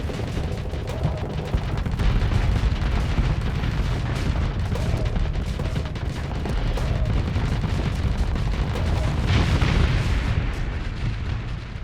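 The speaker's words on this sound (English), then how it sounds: "a second wave of bombs is now coming in" Bombs exploding on a space station in Starsector, a dense continuous barrage of booms and rumbling blasts at steady high volume throughout.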